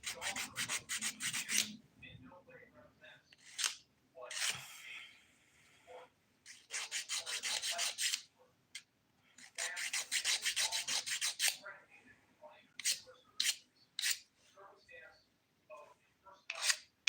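A nail file rasps over the free edge of dip powder nails in short bursts of close, scratchy strokes separated by quiet pauses, with brief low murmurs in between.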